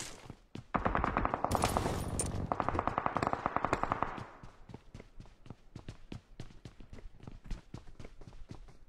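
Machine gun fire rattles in a BGMI match, a dense, loud burst of rapid shots that gives way to slower, separate cracks and thuds, sharp and close, with no voices over it.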